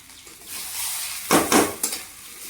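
Ginger and whole chillies frying in a pan are stirred, giving a soft sizzle and then a few sharp scraping and clattering strokes of a utensil against the pan.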